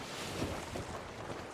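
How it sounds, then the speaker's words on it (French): Wind gusting over open sea, a steady broadband rush with slight swells in strength, heard alone and fairly faint throughout. "Le vent."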